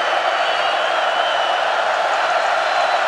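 A college football stadium crowd at Kansas State at West Virginia roars in a steady, loud, unbroken wash of massed voices with no individual words.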